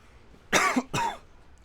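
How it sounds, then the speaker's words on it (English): Two sharp, close coughs in quick succession, loud and dry, with quiet before and after. "whilst fighting off coughing"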